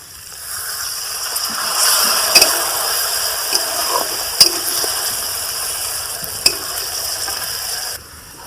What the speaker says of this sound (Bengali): এবার একটুখানি জল দিয়ে দিচ্ছি